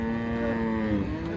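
Friesian cows moo at a cattle market in Dinajpur, one long, loud, close bellow with a steady low drone and no talking over it.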